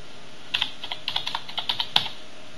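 Keystrokes on a computer keyboard while writing in a word processor on Windows 7, a dozen or so light clicks in an uneven typing rhythm, fairly close and fairly quiet, with one sharper tap near the end and no talking.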